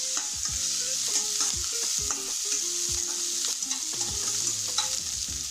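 Coriander leaves sizzle and crackle as they fry in hot oil, with steady stirring scrapes and occasional louder pops throughout, close and fairly loud.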